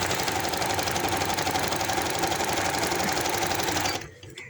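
A sewing machine stitches a handkerchief baby frock in a fast, even run that stops abruptly near the end, close and alone with no voices.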